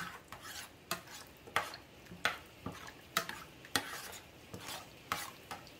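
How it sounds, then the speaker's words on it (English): A pot of potato macaroni soup seasoned with Italian seasoning is stirred with a spoon, giving a regular series of soft scraping and sloshing strokes against the pot, about two per second, fairly quiet and close, with no speech. "All right, so we're going to give this a nice mix."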